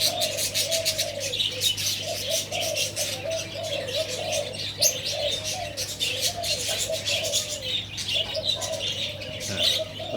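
A small dove cooing in a repeated, rhythmic phrase amid a busy chorus of chirping birds, with a steady background hum.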